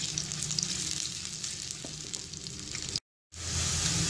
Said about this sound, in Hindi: अब मैं इसके अंदर प्याज ऐड करूँगी और प्याज ऐड करने के बाद मैं इसे अच्छे से भून लूँगी।